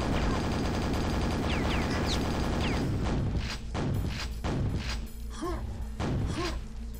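Gunfire in the first-person shooter Quake: a dense, continuous volley of loud shots and booming impacts for the first three seconds, then spaced heavy thumps and blasts repeating at a steady rhythm.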